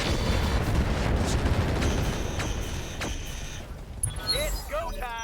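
Heavy mech weapons fire in the BattleTech mod RogueTech, a dense, loud barrage of booming blasts and rumbling impacts that later thins out into scattered bursts.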